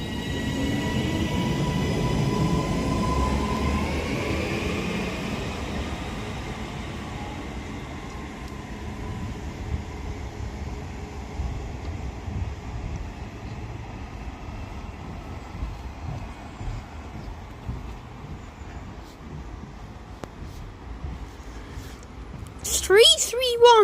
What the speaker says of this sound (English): (331-105) departs East Didsbury now with the delayed 14:41 Northern service to Liverpool Lime Street from Manchester Airport.